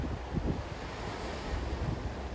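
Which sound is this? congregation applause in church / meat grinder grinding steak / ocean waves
ocean waves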